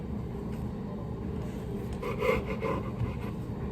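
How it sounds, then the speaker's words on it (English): A serrated knife saws through rolled cinnamon roll dough with soft, muffled rasping strokes, a few firmer cuts clustered near the end over steady low background noise; no talking. "now we're gonna cut these up into like small slices using a serrated knife"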